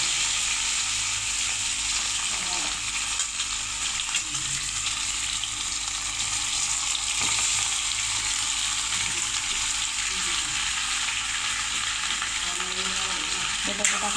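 Potatoes fry in a pan with a steady, dense sizzle throughout, with occasional scraping stirs and light clicks under the constant hiss.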